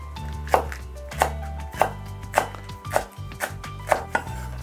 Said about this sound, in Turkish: Şimdi yeşil biberlerimizi doğrayacağız